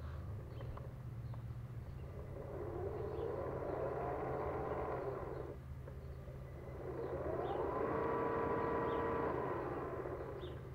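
A steady electric whine from an RC model ship's bow thruster, which swells, fades briefly and then rises again with a tonal hum over a constant low drone, close by and with no voices.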